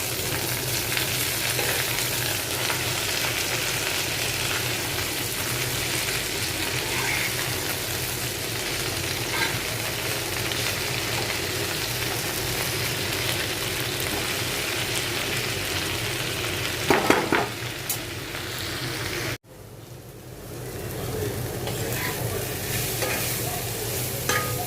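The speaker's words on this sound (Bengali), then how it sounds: "এই তো শাকটাকে আগে ভেজে নিচ্ছি, পেঁয়াজটা লাল হয়ে গেছে" Leafy greens fry with browned onion and garlic in a pan, giving a steady, loud sizzle throughout. A brief scraping stir comes near the end, then a short break before the sizzle resumes.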